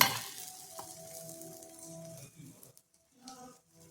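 Batter hitting a hot dosa pan, a burst of frying sizzle that settles into a softer hiss with a few light clinks, close up and fading toward the end.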